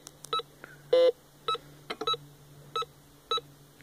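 A metal detector sounds a series of short electronic beeps over likely iron at irregular intervals, one longer tone in the middle, over a faint steady hum.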